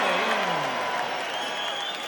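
A Florida concert crowd cheers and applauds, a dense wash of clapping and whoops that fades slightly over two seconds.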